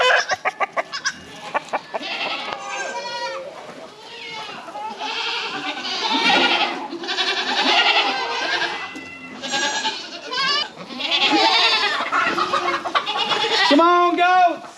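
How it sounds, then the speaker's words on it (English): A herd of goats bleats on a goat farm, loud drawn-out calls overlapping one another close by, mixed with some clucking chickens and a man calling out to the animals. "Come on, goats!"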